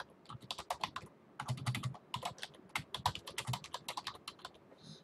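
Keys clatter steadily on a computer keyboard as words are typed in all caps, a fast uneven run of close, crisp clicks with a few brief pauses and no talking.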